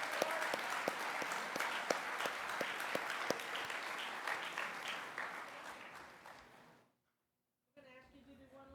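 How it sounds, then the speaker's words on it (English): A big round of applause at a governors summit fills the room for several seconds with dense clapping, then stops dead; after a short silence a voice begins speaking. "So I think they deserve another big round of applause."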